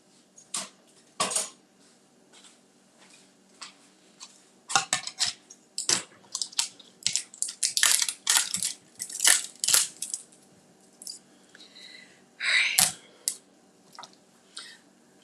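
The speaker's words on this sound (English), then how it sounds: "Let me cut this wrapper." Shrink wrap on a 4-pack of cans crinkles and tears in sharp, irregular bursts, with tugging and a few clinks of the cans, close up between short quiet gaps.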